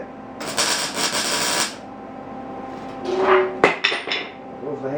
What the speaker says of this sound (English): There's the hammer.